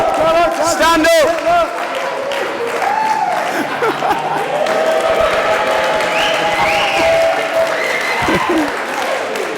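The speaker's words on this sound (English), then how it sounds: "Round of applause." Guests at a lively event burst into a sustained round of applause with some cheering, the clapping steady and loud throughout while voices call out over it.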